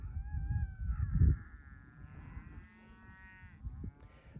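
Cattle being shipped about 75 miles near the Colorado-Utah border moo in long, drawn-out calls, with a loud low bellow early on and a sustained lowing over a rumbling, shuffling herd background.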